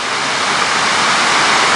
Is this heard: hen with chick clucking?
no